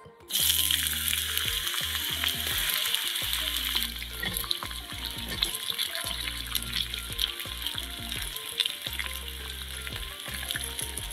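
Cut potatoes fry in oil in a wok for a village-style small fish curry, producing a loud, close, continuous sizzle with crackling over a low humming tone, with no talking.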